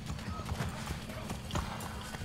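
Rhythmic horse hoofbeats in Assassin's Creed III clop along steadily at a moderate pace, fairly faint, with game-like ambience and some talk mixed in.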